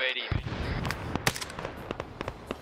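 Gunfire in the Vietnam War game SOG on the Ground, a series of sharp, scattered shots at irregular intervals, some nearer and louder, heard under a voice on the radio.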